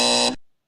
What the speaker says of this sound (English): gave it a buzzer there, unfortunately